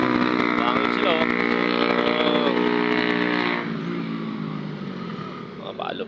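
Two Suzuki Raider motorcycles passing at a racing corner, loud revving engines with rising and falling whine that fades as they move off, with a person talking nearby.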